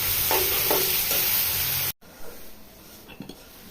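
Bottle gourd cooks in a hot pan, a loud steady sizzle and stirring scrape for about two seconds, then a sudden cut to quieter, softer frying with faint occasional clinks.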